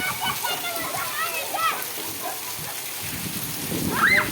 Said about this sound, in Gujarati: ફૂલ વરસાદ ચાલુ થઈ ગયો છે જામનગરમાં અત્યારે.